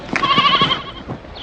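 A sheep gives one close, loud, wavering bleat with a quivering tremolo, then fades out.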